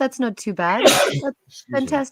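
Someone sneezes once, a short noisy burst in the middle of ongoing talk, with voices continuing before and after.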